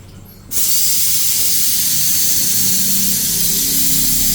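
Jackfruit (langka) boiling in a pot with meat fat for ginataang langka: a loud, close steady hiss of steam and bubbling that switches on abruptly and holds without a break.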